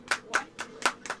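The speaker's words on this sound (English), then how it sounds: "Let's give a round of applause to Taco." Five crisp hand claps land in an even, moderate rhythm, close and fairly loud, a brief round of applause for a donor at a charity gaming marathon.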